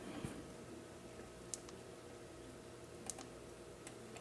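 Buttons on a Samsung Galaxy S8 in a clear yDreamj bumper case pressed, giving a few sparse, sharp little clicks over a faint background hum, very quiet and close.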